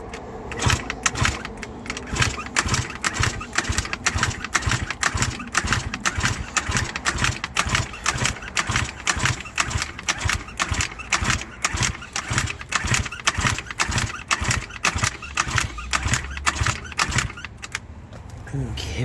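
An Eaton Beamer Matrix 2 scooter is kickstarted and its small engine catches, running with a rapid, steady put-put close by and loud throughout, with faint talk over it.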